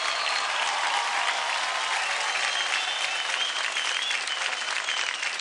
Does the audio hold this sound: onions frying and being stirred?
no